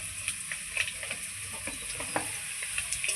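Potato and drumstick pieces fry in a pan with salt and turmeric, giving a steady soft sizzle with light scraping stir clicks, close and fairly quiet, with no voices.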